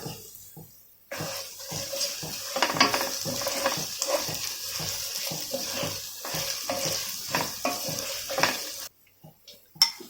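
Masala with biryani spice fries in a pan for prawn biryani while a spoon scrapes and stirs in rhythmic bursts over a steady sizzle, starting and ending in near silence.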